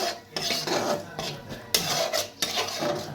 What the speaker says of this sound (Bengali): 2-3 মিনিট ধরে এই সর্ষে বাটাটাকে একটুখানি আমি মশলাটার সাথে কষবো।